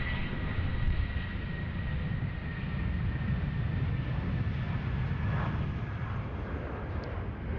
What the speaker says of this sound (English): we've got a departure coming out. It's only a Jetstar.